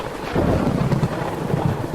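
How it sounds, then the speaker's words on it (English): A clap of thunder rolls out as a low, heavy rumble that swells and lingers for about two seconds, with no voices over it. "she heard a clap of thunder."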